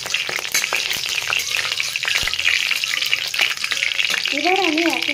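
Nigella seeds tempering in hot oil crackle and sizzle loudly and continuously, close up, with light stirring clicks and a brief voice near the end.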